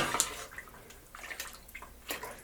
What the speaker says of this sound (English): Let's go ahead and give that a stir.